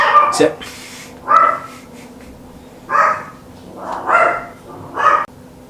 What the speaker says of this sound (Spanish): estaba ladrando Evita.